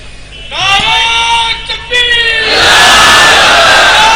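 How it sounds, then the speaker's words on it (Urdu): A large crowd at a religious sermon chants slogans together, loud and close, with shouted voices rising in unison, dipping briefly and then swelling into a sustained roar of cheering. "نعرے بھی لگائے"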